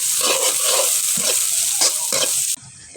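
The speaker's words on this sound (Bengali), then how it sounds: "আমার এখন দিয়ে দেবো তেল। এখন দিয়ে দিলাম পেঁয়াজ।" Onions fry in hot oil for a beef and taro curry, a steady bright sizzle with a few stirring scrapes in a pan, close and continuous until the sizzle drops suddenly near the end.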